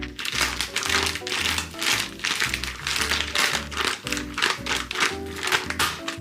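Thawed blueberries are mashed by hand inside a ziplock bag, producing close, repeated crinkling and squishing of plastic in uneven rhythmic pulses with faint background tones underneath.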